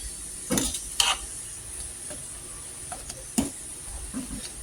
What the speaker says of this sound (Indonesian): Ini tuh udah mendidih.